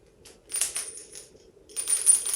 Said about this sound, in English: Shake that box.